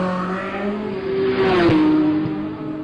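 A classic car climbs a hill-climb course, its engine whining loudly and rising in pitch as it accelerates past, close by, then easing slightly toward the end.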